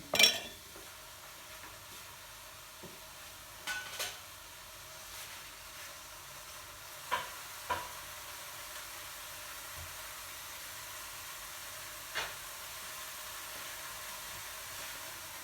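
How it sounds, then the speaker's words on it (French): Faint, low hiss of bacon gently browning in a pan for Cantonese fried rice, with a few sharp clinks and scrapes of utensils standing out at intervals, no talking. "on entend que le lard commence à griller légèrement"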